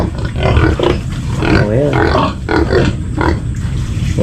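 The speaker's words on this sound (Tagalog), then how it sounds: "lahat ng baboy namin nilagay namin dito sa medyo mataas-taas" Pigs grunting and squealing together in a crowded raised pen where a farm moved its herd during a flood, a steady loud mass of oinks with a brief short remark from a person.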